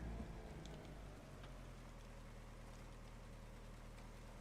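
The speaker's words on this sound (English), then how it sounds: "this is really heavy rain that we got here" Heavy rain in the iRacing racing game, a broad steady wash of spray with a low engine drone underneath from the race car, continuous and fairly quiet, with no speech.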